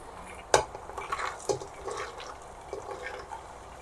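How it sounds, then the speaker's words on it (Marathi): Washed ghevda beans tumble into a pan and are stirred, a sharp clatter at the start, then a second knock and softer scraping and wet shuffling of beans against the metal, close and moderate in level with no talk. "त्यामध्ये आता आपण धुवून घेतलेला घेवडा घालू"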